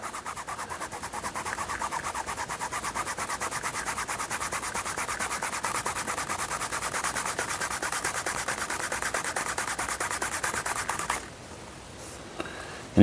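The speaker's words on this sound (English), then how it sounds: "Get it on all of the edge that you're going to burnish. Just rub it back and forth." A leather edge being burnished by hand, a steady, quiet back-and-forth rubbing friction that keeps an even rhythm for about eleven seconds before stopping.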